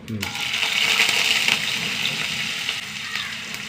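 Mustard seeds and urad dal frying in hot oil, a steady broadband sizzle with faint crackles and pops, close and fairly loud throughout.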